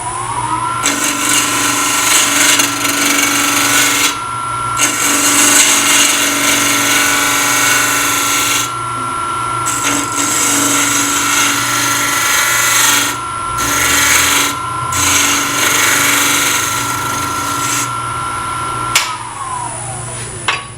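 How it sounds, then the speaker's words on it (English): Wood lathe spinning a segmented bowl with a steady hum while a bowl gouge cuts in repeated passes, each rasping stretch broken by short pauses. "I'll go back to my bowl gouge."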